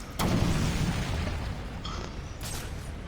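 A bomb blows apart a solid ice wall in Batman: Arkham Origins. A sharp, loud boom rings out and rumbles away over a few seconds, followed by fainter crackles and debris sounds.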